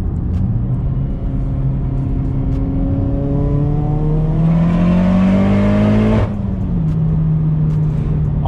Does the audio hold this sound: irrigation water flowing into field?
no